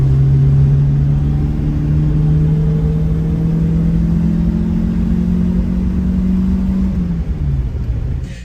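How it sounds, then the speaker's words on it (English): A McLaren supercar engine rumbles steadily nearby, a loud low drone with a faint rise in pitch that holds for about seven seconds before easing and dropping away near the end, with no talking over it. "Excuse the noisy McLaren in the background."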